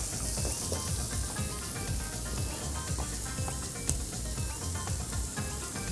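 Shrimp sizzling and frying on a hot grill, a steady, loud crackling hiss with dense popping throughout, close up and with no talk.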